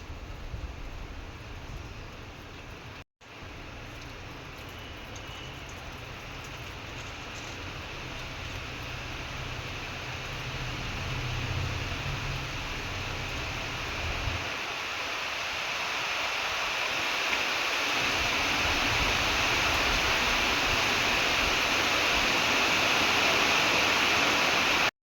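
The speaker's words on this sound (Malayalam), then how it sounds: "മഴ വരുന്ന സൗണ്ടാണ് കേട്ടോ കേൾക്കുന്നത്." Rain arriving after a sunny morning, a broad steady hiss of falling rain that gradually grows louder over the clip, with no talk.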